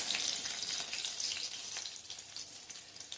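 Small pieces of green chilli sizzling as they drop into hot oil for a tempering, a dense, steady crackle close by, with no voice over it.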